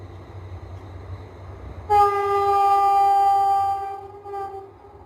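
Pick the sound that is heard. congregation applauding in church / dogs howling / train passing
train passing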